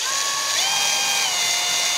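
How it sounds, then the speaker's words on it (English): A power drill whines steadily as it bores a pilot hole through a plastic window frame and into metal, its high pitch shifting slightly partway through as the bit bites, loud and close with no talking. "So I'm going to apply a lot of pressure here and get a pilot bit going,"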